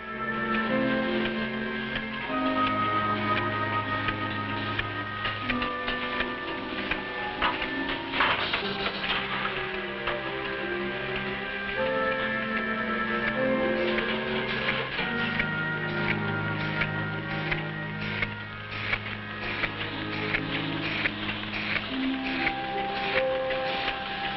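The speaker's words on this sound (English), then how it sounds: "The encapsulating process takes place here." A capsule encapsulating machine runs in a Nutrilite supplement factory, giving a continuous mechanical drone with layered steady tones and faint repetitive ticking throughout, without any voices.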